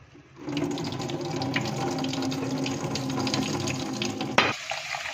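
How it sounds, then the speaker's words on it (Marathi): Water gushes steadily into a container of lentils and peanuts being rinsed for several seconds, a continuous close splashing and swirling that cuts off abruptly near the end. "आता हे चांगलं स्वच्छ दोन पाण्याने चांगलं स्वच्छ धुवून घ्यायचं"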